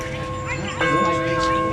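The old town clock bell in Andover chimes over an outdoor summer concert, its ringing tones sustained beneath steady crowd chatter and nearby voices.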